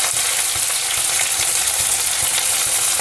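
Mustard seeds, cumin, curry leaves and finely chopped onion sizzle loudly in hot oil for matki usal, a dense continuous crackle with faint stirring taps.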